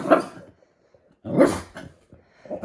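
A dog barks close by in three loud, separate outbursts with quiet gaps between them, each a rough, throaty bark with a whiny edge, heard alone without talk.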